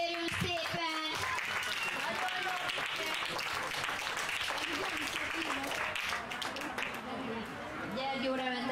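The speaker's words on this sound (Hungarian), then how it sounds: "Tapsot kérünk szépen!" Dense applause from a crowd at an international horse log-pulling competition in the rain, steady clapping throughout with voices calling over it near the start and end.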